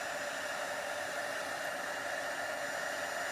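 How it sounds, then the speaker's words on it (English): A heat embossing tool blows hot air with a steady, even hiss, a close, moderately quiet continuous whoosh with no other sounds. "just going to quickly heat emboss this again."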